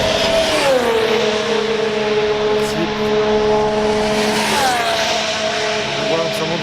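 Formula 1 cars run at speed during Barcelona pre-season testing in 2019, engines whining loudly as one car passes close and its pitch drops, then another rises and falls, over constant trackside roar.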